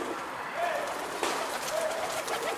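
A young racing pigeon hatched in 2021 gives soft, low coos twice, faint against a quiet indoor background.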